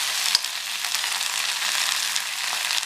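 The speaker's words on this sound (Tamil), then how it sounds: "அந்த எண்ணெயிலே கொஞ்சம் வதங்கிக்கட்டும்" Drumstick leaves sautéing in oil in a pan: a steady, close hissing sizzle with faint stirring ticks, and no voices.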